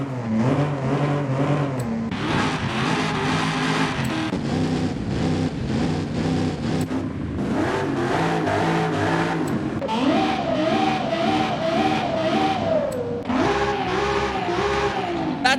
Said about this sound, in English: I'll rev them up and let's take a listen.